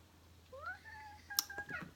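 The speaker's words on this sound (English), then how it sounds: "that cat left." A cat meows several times in a quiet indoor room, its short rising and falling cries coming close together over a low steady hum, with no talking.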